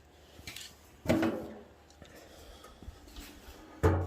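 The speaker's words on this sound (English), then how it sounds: "So we'll flip the hood here." The hood of an MTD 990 lawn tractor is lifted open, giving a few faint hollow clunks and a sharper knock near the end in a quiet space.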